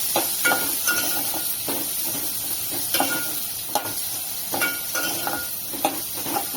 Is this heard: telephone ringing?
no